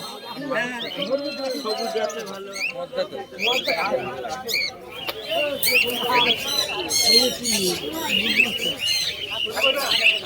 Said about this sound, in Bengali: সবাই এসেছেন খাঁচার মধ্যে পায়রা ঢোকাচ্ছে